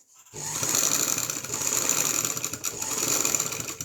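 A sewing machine stitches a lined kameez in one close, steady, loud run of rapid needle clatter that starts abruptly and continues without pause.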